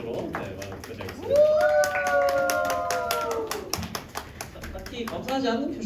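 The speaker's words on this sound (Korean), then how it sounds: "감사의 박수로 마무리하겠습니다." High school congregation at Sangdo Church clapping in thanks, a run of crisp, evenly spaced claps at moderate distance with a sustained sung or toned voice rising over the middle.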